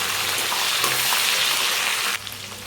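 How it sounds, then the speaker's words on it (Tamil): Curry leaves and shallots frying in hot oil, a loud, dense, close crackling sizzle that holds steady and then abruptly drops to a quieter hiss near the end. "சாம்பார் வெங்காயம் சேர்த்து நல்லா கொஞ்சம் வதக்கி விடுங்க"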